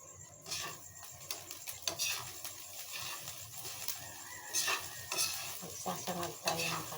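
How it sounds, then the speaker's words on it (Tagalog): Rice is stir-fried in a pan for breakfast, with irregular scraping strokes of a utensil against the pan over a constant sizzle, close and clear with no talk. "Magsasangag tayo ng kanin."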